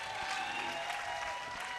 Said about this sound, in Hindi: तालियां बजाइएगा एक बार